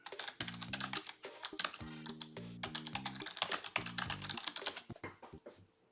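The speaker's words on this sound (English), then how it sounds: "if I type this in" Rapid bursts of typing on a computer keyboard, keys clattering in quick irregular runs close to the mic, with faint background music underneath and no talking.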